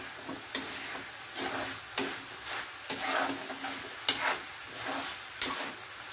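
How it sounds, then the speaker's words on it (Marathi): Grated fresh coconut being stirred into cooked cowpea vegetable in a pan, a series of regular scraping strokes about once a second over a faint sizzle. "ओलं खोबरं चांगलं मिक्स करून घ्यायचं आहे."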